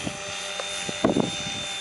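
An HC3-SX radio-controlled model helicopter gives off a faint, steady, high motor whine with a few soft thumps and taps close by.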